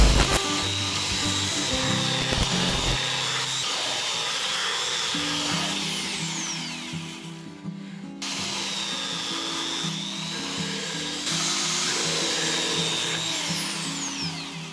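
A belt sander working pallet wood, a steady loud whining buzz with grinding tones, briefly cutting out midway before resuming at close range.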